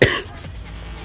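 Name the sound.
cough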